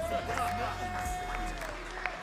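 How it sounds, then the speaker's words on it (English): A crowd claps and cheers at a back-to-school boxing tournament, moderate applause under a low hum, with a voice calling out briefly. "So give them a round of applause as well"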